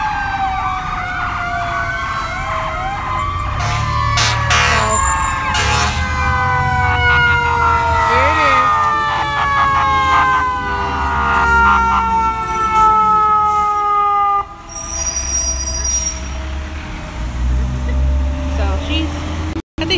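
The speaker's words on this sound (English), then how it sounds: "here's the ambulance coming" A wailing ambulance siren sweeps up and down steadily at an accident scene, loud and close, over traffic rumble with voices talking underneath.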